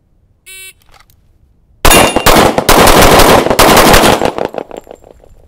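A short electronic timer beep is followed by a rapid string of loud, close 1911 pistol shots fired at targets, cracking in quick succession for about two seconds before the echo fades.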